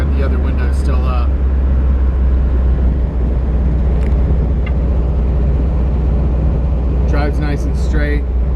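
A loud, steady low engine and road drone fills the cabin of a 1974 VW Thing while driving with one window off, and brief voices rise above it near the start and end.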